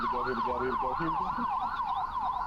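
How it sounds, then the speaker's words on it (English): An ambulance siren wails loud and close as it passes by, its rising and falling tone cycling steadily over a low traffic rumble, with no one speaking. "Here we go, ambulance coming on by."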